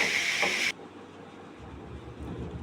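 Carrots sautéing in ghee give a sharp, bright sizzle for under a second, then it cuts off abruptly to a low, soft background hiss with faint rustling.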